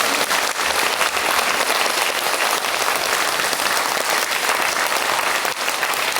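An audience in a small theater hall applauds performers coming forward after a play, a dense, even roar of clapping that continues loud and unbroken for several seconds.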